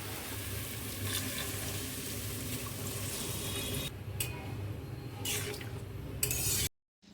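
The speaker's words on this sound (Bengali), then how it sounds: "এরপর দেবো আমি এর মধ্যে জল" Water poured from a tap into a cooking pot of half-boiled potato and masala for a patol chingri curry, a steady splashing pour with sizzling running throughout and a couple of brighter bursts near the end before it cuts off.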